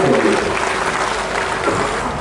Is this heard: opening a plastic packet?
no